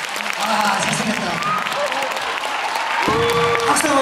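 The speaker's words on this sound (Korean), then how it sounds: "박수한번보내주세요" An audience at a fan meeting breaks into sustained applause, dense clapping filling the space while voices talk over it.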